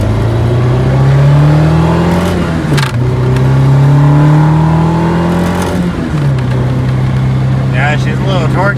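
A Honda Civic with a B16 engine swap accelerates hard, heard loudly from inside, the revs rising and dropping through two or three gear shifts, with faint voices toward the end.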